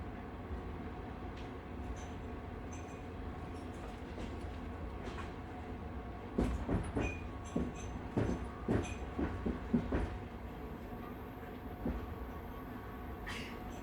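A train runs on rails at night, a steady low rumble with a burst of clickety-clack wheel beats in the middle, fairly faint and without talk.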